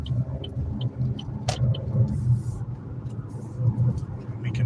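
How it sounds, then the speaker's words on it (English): Road traffic heard from inside a car driving around Hornell, New York: a steady low rumble of engine and tyres that swells and eases, with a few faint brief clicks over it. "crazy traffic today"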